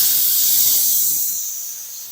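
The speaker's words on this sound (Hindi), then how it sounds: "ये जो सारा प्रेशर कुकर का वो हम निकाल लेंगे।" Steam hisses steadily and loudly from a pressure cooker as its pressure is released after cooking mixed chana and moong dal, a continuous airy rush that eases slightly toward the end.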